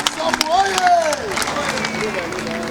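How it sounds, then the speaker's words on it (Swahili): Audience applause at a gathering honouring the Usambu organization, a crowd clapping steadily for a few seconds, mixed with a voice speaking over it and some background chatter. "Nataka mnisaidie, wapigie makofi kwenye shirika la Usambu."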